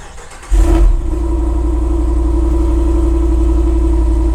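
A Ram TRX, Durango Hellcat or Grand Wagoneer engine cold-starts with a brief loud crank and flare, then settles into a steady, loud, rumbling high idle close by.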